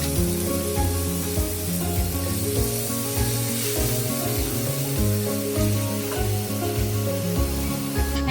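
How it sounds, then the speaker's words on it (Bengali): Chopped pumpkin greens drop into hot oil in a pan and hiss loudly, a dense, continuous frying sizzle with crackling pops that holds steady throughout. "শাকগুলো আমি এখন সুন্দর করে দিয়ে দিব"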